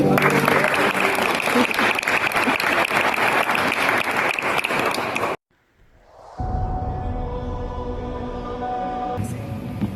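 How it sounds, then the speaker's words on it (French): Dense, loud applause fills a church baptism for about five seconds, then cuts off abruptly into near silence before music and singing voices take over. "On peut l'applaudir"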